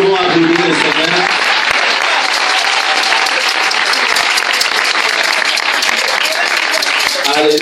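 A church congregation at a service in Yaoundé, Cameroon, bursts into loud, sustained applause that fills the room steadily for several seconds, dense and close with no pauses.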